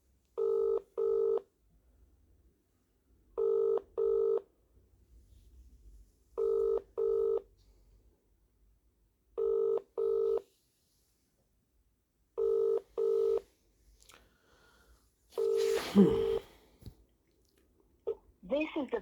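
A mobile phone call is placed: short paired electronic ringing tones repeat at steady intervals several times, clear and close, with a brief burst of voice-like noise near the end.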